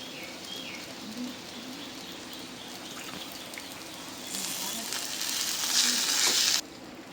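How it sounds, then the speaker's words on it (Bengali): Salted potato pieces frying in hot oil, a steady sizzle that swells louder midway and then drops off, with faint bird coos in the background. "নুন দিয়ে মেখে রাখা আলুগুলো তেলের মধ্যে দিয়ে দেব।"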